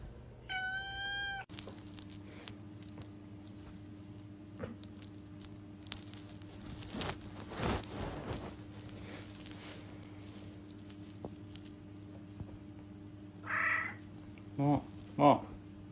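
A cat at home cries and meows several times. Its drawn-out calls come near the start and again close together toward the end, over a low background hum, with some quiet rustling in between.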